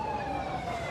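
An ambulance siren wails steadily in a single sustained tone at moderate distance, blocked in traffic behind a police cordon, with road noise around it.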